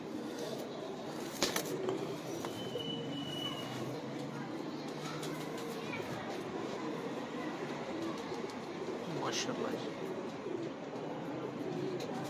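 Pigeons coo softly against a dense, steady background hum in an outdoor pigeon loft, the calls faint and intermittent while people talk quietly nearby.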